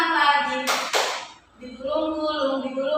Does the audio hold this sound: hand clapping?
yes